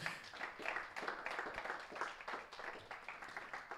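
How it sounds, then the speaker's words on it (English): A dense round of clapping from many hands, steady and fairly close, lasting throughout. "Let's do one more round of applause for everyone involved in making today possible."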